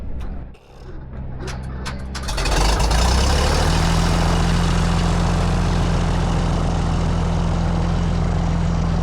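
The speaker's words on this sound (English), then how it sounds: "the engine start broke the morning silence as we taxied toward the runway." A small propeller plane's engine at a fly-in cranks and catches in the morning, then settles into a loud, steady, close droning rumble as the aircraft taxis toward the runway.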